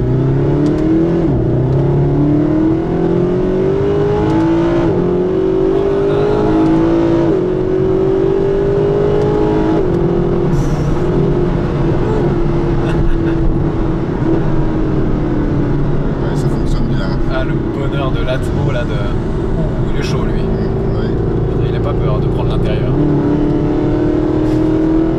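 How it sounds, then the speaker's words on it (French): Mercedes SLS AMG with a naturally aspirated V8 accelerating from low speed, heard from the cabin: a loud, rising engine note climbing steadily through the revs over a long pull, with a shift and renewed climb, speech faintly present. "on va pouvoir faire une petite accélération depuis une basse vitesse pour entendre ce moteur qui va se décoincer les bielles."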